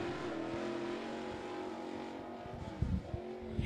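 A race car roars out of turn four at a small speedway, a steady engine drone that swells with a couple of closer bursts near the end, heard without talk.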